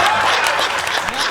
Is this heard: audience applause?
yes